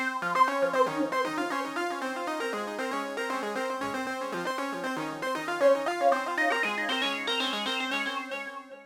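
A vintage-style synth plays a rhythmic melodic pattern, each note echoed by a tempo-synced delay, continuous and moderately loud with no talking.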